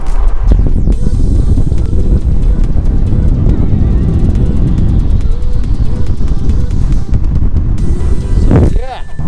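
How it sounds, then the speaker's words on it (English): Wind roars loudly through the opened window of a Mercedes C63 Black Series on the move, a heavy steady buffeting rush with engine and road noise underneath. "I'm just gonna open the window. Pardon the noise."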